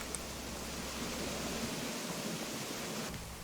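A waterfall in the video game Animal Crossing New Horizons rushes as a steady, even wash of broadband noise at low level, continuous throughout with no other sounds.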